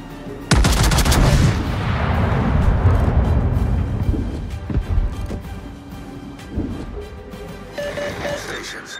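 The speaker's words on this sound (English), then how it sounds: "Concentrate fire on the enemy warship." Battleship Schlieffen firing its main and secondary guns in a naval video game, a huge sudden boom that rolls on for seconds, followed by further heavy thuds and a voice speaking over the rumble.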